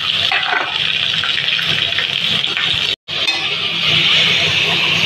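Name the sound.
water poured into frying lentil spices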